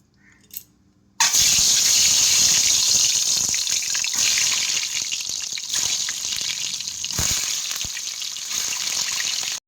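Eggs hit hot oil in a wok and break into a loud, steady crackling sizzle that starts abruptly after a brief quiet moment and continues close up without letting up.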